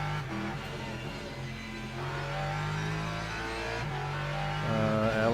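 A Lexus race car's engine in the Le Mans Ultimate sim racing game at Circuit of the Americas, Texas, drones steadily and rises in pitch as it revs, with a climbing gear pull near the end, heard alone.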